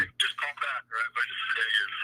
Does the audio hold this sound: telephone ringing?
yes